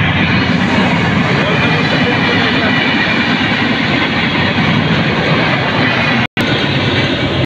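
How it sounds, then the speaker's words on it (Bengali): A train passes along a rural line, a loud, steady rumble and rattle of rail cars filling the whole stretch close by, with a brief dropout near the end. "এই যে বলতে বলতে ট্রেন এসে গেছে, ট্রেন যাচ্ছে"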